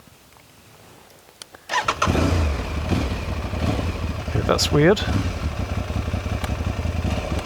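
An Aprilia Tuareg 660 motorcycle cranks after a short pause and catches, then settles into a steady, close idle; someone speaks briefly before it starts.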